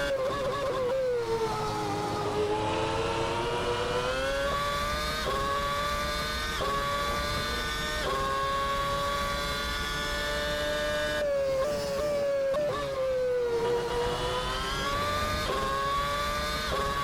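A McLaren MP4/22 Formula 1 car in the Assetto Corsa racing game, its high-pitched engine wailing steadily and loudly, rising through the revs with quick, seamless gear changes marked by brief pitch drops, and no voices.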